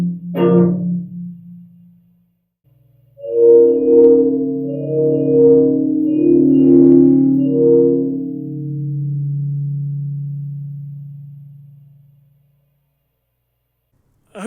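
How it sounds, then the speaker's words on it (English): A reverb recording replayed through a washing machine drum used as a plate reverb gives a smeared, harmonic tonal layer that swells and hangs, then fades slowly over several seconds after a short opening burst. "what if I play the reverb recording back out through the washing machine and put a second layer of reverb on top of it, Alvin Lucier style?"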